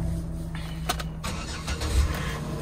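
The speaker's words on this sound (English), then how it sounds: "Let me see if it starts up." A 2010 Buick Lucerne with high mileage starts at an auction lot: a brief starter crank catches into a steady, close engine idle over about two and a half seconds, with no talking.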